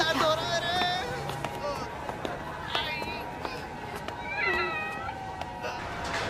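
A cat meows several times in short, rising cries, with a low murmur of voices in the background.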